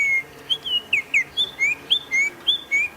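A recorded bearded scrub robin call plays back as a rapid series of bright, clear whistled notes, repeated about a dozen times in quick rhythm, near and distinct.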